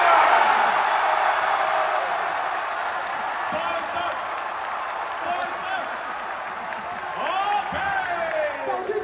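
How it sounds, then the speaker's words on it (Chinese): An audience at a live contest applauds two competitors, a broad wash of clapping that is strongest at the start and then fades, with a host speaking over it. "掌声送给两位尽力的选手吧"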